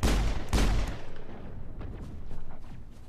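Gunfire in Mass Effect while shooting enemies, a pair of loud close booming shots at the start followed by a rapid rattling burst of quieter shots continuing throughout.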